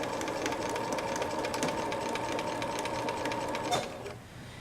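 Electric sewing machine running at a steady fast speed with a continuous close mechanical whir and rapid needle clatter, stopping abruptly near the end.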